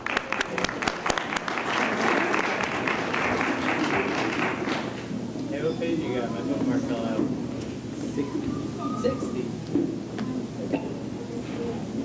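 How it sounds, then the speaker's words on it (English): An audience at a school spring concert claps for an advanced chorus. The dense applause is loud for about five seconds, then thins into scattered claps and quiet murmuring from the crowd. "Please give a round of applause for Advanced Chorus."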